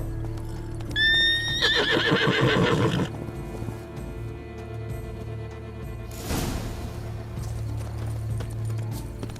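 Roach the horse in The Witcher 3 gives a loud, close neigh with clip-clop hooves. A snort-like whoosh follows a few seconds later over a low steady ambient hum.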